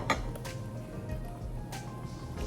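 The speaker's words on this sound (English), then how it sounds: "we're going to add that and stir it until it's dissolved" A spoon stirring sugar into heavy cream in a bowl, a soft steady scrape with faint clinks of utensil against the dish, quiet and close, with no talking.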